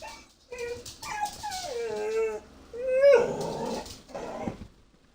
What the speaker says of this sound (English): It's just a dog outside!